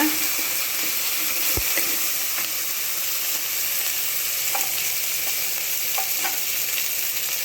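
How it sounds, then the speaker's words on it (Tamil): Eggplant, tomato and curry leaves sauté in a hot pan, a continuous close sizzle with scattered spoon scrapes and taps as the mixture is stirred. "இதையும் சேர்த்து நல்லா வதக்கிக்கிங்க"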